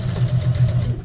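A sewing machine running a short back stitch at the end of a seam on a child's shirt, a close, loud, fast rhythmic whirring pulse with no talking.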